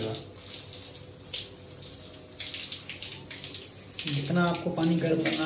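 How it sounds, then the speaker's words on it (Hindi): Hot water running from the tap of an instant electric water geyser, a steady splashing flow that turns louder and fuller near the end, with a voice talking over it. "आपको पानी गर्म आने लगा।"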